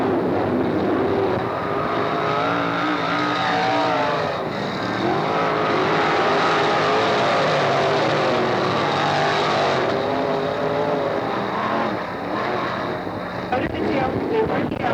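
Race cars roar around Hickory Speedway in the closing laps, a loud sustained wash of engine noise with pitch sweeping up and down as the cars pass, and a voice speaking over the racket.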